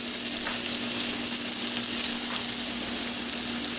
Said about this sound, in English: The steak goes right in the pan.